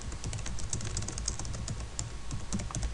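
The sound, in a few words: typing on a computer keyboard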